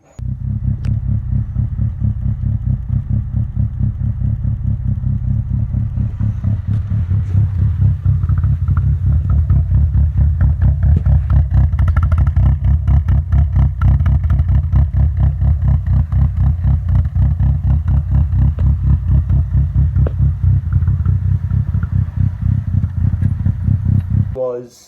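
A car with a 4AGE-era engine idles rough and cammed, its loping rumble rising and falling as the idle hunts, loud and close for the whole stretch with no talk over it.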